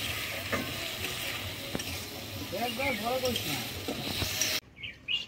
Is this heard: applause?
no